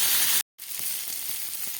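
Fish frying in a pan over a lowered gas flame, a soft steady sizzle broken by a brief silence, with faint light ticks in the hiss afterward.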